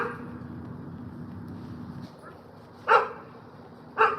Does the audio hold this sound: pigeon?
no